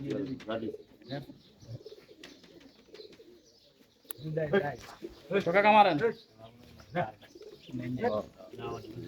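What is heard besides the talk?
pigeons cooing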